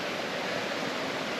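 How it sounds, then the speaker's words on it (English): A forest waterfall in Coed y Brenin pours with flowing water in a loud, unbroken roar, close by and steady throughout, with no voices. "I want to go in the waterfall"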